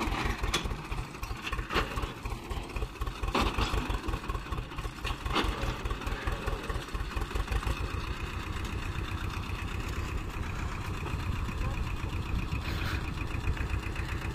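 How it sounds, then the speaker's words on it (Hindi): A Swraj 724 XM tractor hitched to a fully loaded trolley idles steadily nearby, its engine giving a continuous, rhythmic low chugging throughout with a few faint background clicks. "आगे लेके जाऊंगा मैं ट्रैक्टर को"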